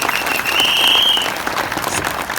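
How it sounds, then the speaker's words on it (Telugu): A crowd at an on-stage event for top sales earners claps heartily in a short, steady burst of applause, with a thin high whistle-like tone rising briefly above the clapping. "ఒకసారి గట్టి క్లాప్స్ కొడతారా?"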